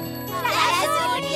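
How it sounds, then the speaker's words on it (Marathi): A school bell rings to mark the end of the school day in a cartoon, a bright chiming tinkle over about a second that swells and fades, with faint background voices. "शाळा सुटल्याची घंटी वाजली"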